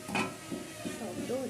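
A pan of bhuna khichuri is being fried and stirred, with a short bout of soft sizzling and a few quiet scrapes of a spoon against the pan.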